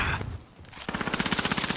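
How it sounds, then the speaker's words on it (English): Rapid submachine gun fire in Call of Duty: Modern Warfare, a dense burst of evenly spaced shots that follows a brief lull after earlier gunfire, loud and close with no talking over it. "My favorite SMG for sure."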